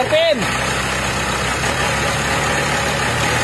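Mitsubishi Strada pickup engine idling steadily with a low, even rumble, its turbo being checked for low power, under a brief rising whine at the start and someone talking.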